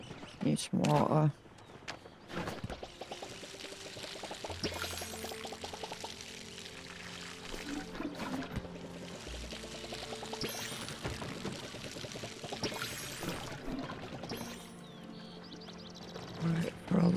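Water poured onto crops in the farming game Palia, a bright trickling splash that comes and goes in short bursts against soft background music, with a person talking over parts of it.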